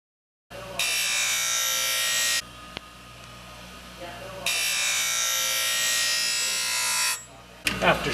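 Ice skate blade ground on a sharpening machine for a cross grind: two long, steady high-pitched grinding passes, loud and close, with a short quieter gap between them and a brief scrape at the end.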